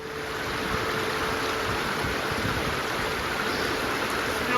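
A mountain creek in the Cascades rushes steadily while being crossed on a ski tour, a constant broadband splashing and burbling heard up close and without talk.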